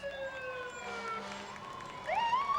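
An emergency rescue unit's siren wails at a St. Patrick's Day parade in Philadelphia, rising and falling tones sweeping over a faint crowd background, moderately distant.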